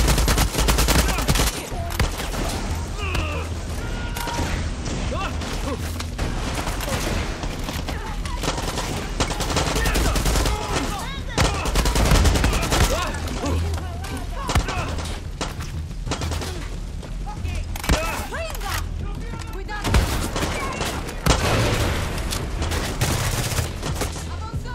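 Gunfire in the video game Far Cry 6: loud, continuous bursts of automatic weapon fire and booming shots crowd the soundscape almost without pause, with faint talk beneath.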